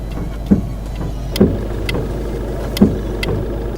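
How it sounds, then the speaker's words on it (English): A 2013 Fiat 500 Pop makes a noise as its high beams switch on: three sharp clicks or thunks about a second apart over a low steady hum, close by, with no talking. "Another thing I would like to point out is the noise it makes when you turn the brights on."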